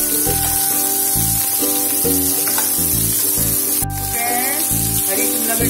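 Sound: green capsicum and onions frying on full gas

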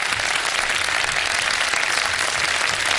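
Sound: studio audience applause

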